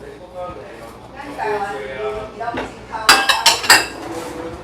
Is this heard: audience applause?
no